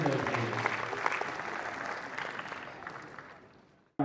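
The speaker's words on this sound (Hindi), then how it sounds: "ताली बजाइए और आनंद" Steady audience applause, dense and sustained, fading toward the end before cutting off abruptly.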